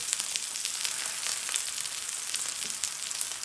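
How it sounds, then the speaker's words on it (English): Steak frying in a hot pan, a steady, close crackling sizzle with fine popping spatters throughout and no talk. "you can hear the sizzling, you can hear it all happening."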